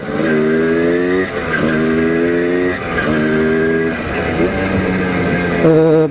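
A large-displacement motorcycle engine revs hard in repeated rising pulls, each climbing in pitch and dropping back before the next, loud and close throughout with no talk.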